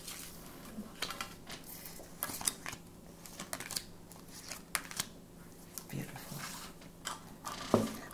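Tarot cards are shuffled and drawn from a deck in a quiet room, with soft, close paper slides, flicks and taps scattered irregularly over a hushed background.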